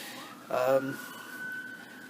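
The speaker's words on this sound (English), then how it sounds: "There's that damn siren again, every time." A siren wails faintly in the distance, a brief rising tone followed by a long steady whine, heard through a quiet indoor room.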